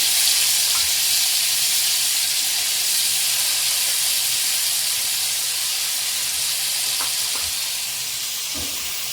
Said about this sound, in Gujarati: તો આપણે જોઈ શકીએ આપણું પનીર સરસ રીતના ફ્રાય થઈ રહ્યું છે